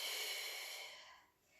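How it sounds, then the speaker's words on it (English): A single deep breath drawn in through the nose, a close airy hiss that fades out after about a second. "Take a nice deep breath."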